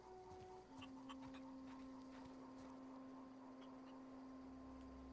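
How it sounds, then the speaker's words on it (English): Chickens in The Outer Worlds clucking softly and intermittently over a steady droning tone and background hum, with a few brief higher chirps. "Hey, chickens."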